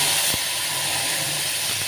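Water poured into a hot tempering pan of mustard seeds, cumin, curry leaves and turmeric while cooking Maharashtrian shengole, giving a loud, steady steam hiss that fills the whole moment without pause.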